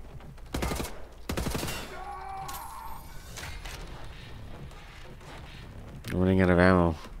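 Rapid gunfire bursts while shooting Nazis in a first-person video game, two loud volleys of fast shots near the start and a longer burst near the end, with game sounds and a voice speaking in between.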